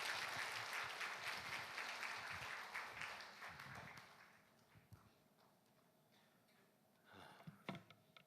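Church seminar audience applauding to welcome a guest pastor, a dense steady clapping that fills the first few seconds and then fades to scattered claps and room noise.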